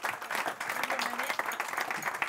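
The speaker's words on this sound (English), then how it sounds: "Give Kate a warm round of applause." Audience applause for a panelist joining the stage at an awards and recognition event, sustained crowd clapping with a voice briefly audible beneath it.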